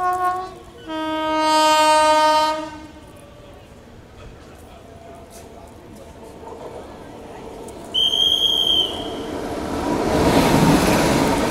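An approaching passenger train on the opposite track at an Indian railway station sounds a loud, sustained two-second horn, then a shorter, higher whistle later. A steady rolling rumble swells underneath.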